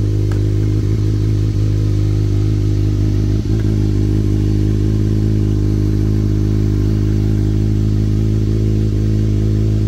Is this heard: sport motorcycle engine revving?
yes